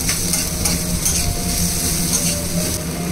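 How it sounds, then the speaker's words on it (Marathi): Onion sautéing in a pan with toasted grated coconut, a steady close sizzle with scraping stir strokes running throughout, no talking. "त्यानंतर त्यामध्ये कांदा टाकला. कांद्याला सुद्धा छान परतवून घ्यायचे आहे."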